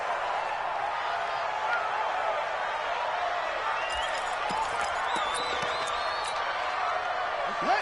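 Stadium crowd noise in a PS4 football video game, a loud, continuous roar from a deafening crowd under play-by-play commentary, with whistles and whoops rising briefly.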